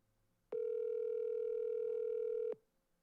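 A telephone ringing on the line heard from the caller's end: one steady, loud electronic tone lasting about two seconds, then silence, with no voices over it.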